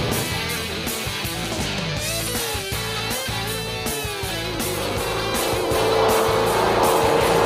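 Mercury Marauder with limited-slip rear end and 3.55 axle, its engine droning steadily from inside while driving, rising in pitch and loudness toward the end, with no talk over it.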